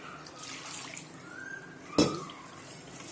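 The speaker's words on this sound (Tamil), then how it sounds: "இப்போ வெறும் தண்ணியை ஊற்றி" Water is poured over raw chicken pieces in a pot for rinsing, a soft continuous splashing trickle with a sharp clink of metal midway and no talk.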